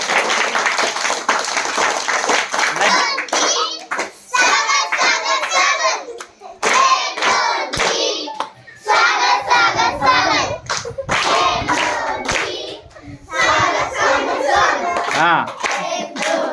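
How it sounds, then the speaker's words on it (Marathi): Classroom children clap loudly together in a grandmother's honor, bursts of dense applause broken by short pauses, with a voice and adult speech mixed in. "आपण श्रद्धाच्या आजीसाठी आपण जोरदार टाळ्या वाजूया."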